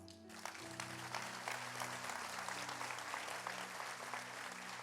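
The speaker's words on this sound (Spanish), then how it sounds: "Dale un aplauso al Señor" A church congregation breaks into applause during a sermon, a full, steady round of clapping that rises quickly after a sustained musical tone fades and continues evenly throughout.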